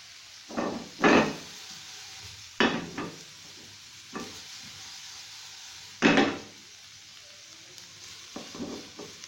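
Vegetables with oregano and salt being stirred in a hot pan, several separate scraping strokes with a soft sizzle between them, close and moderately loud.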